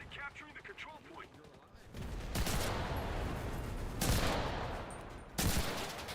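Submachine gun bursts in the World War II shooter Enlisted: loud, dense volleys of gunfire start after someone talks and come in several heavy waves.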